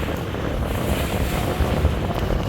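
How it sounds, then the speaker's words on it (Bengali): Steady wash of water and wind on the deck of a passenger launch travelling the Dhaka–Barisal river route while overtaking another launch, a continuous broadband rush with low engine rumble and no voices. "এই মুহূর্তে আমরা ওভারটেক করতেছি ঢাকা বগা পটুয়াখালী রুটের প্রিন্স রায়হান এক লঞ্চকে"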